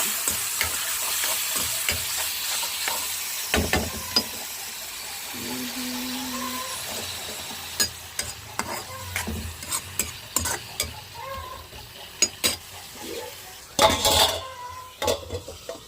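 Tomatoes stirred and fried in a pan while making a Telugu home-cooked dish, with a spoon repeatedly scraping and clinking against the metal over a low sizzle, in uneven bursts and with a short tonal beep partway through.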